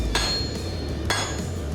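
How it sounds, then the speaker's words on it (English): An 8-pound hammer forging car leaf spring steel: two sharp ringing metal strikes about a second apart over a low steady forge roar, close and loud. "an 8-pound hammer."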